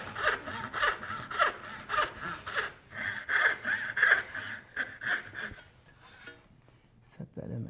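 A hand saw cuts a dovetail in wood with about a dozen steady rasping strokes, fairly close and loud, before the sawing stops and a few light handling knocks follow.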